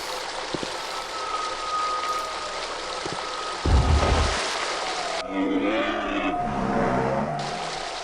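Water in the video game The Dig pouring through a hole, heard as a steady rushing stream with a deep thudding surge midway, followed by a shift to a gurgling flow.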